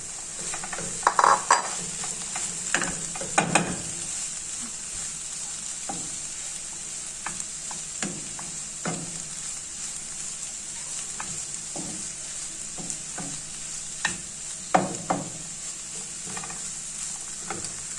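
Onion and coarsely grated carrot fry in a pan with a steady sizzle, broken by frequent close scrapes and knocks of a utensil against the pan as the mixture is stirred.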